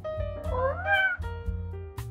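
A cat meows loudly and close by, giving a couple of drawn-out, wavering calls with no talk over them.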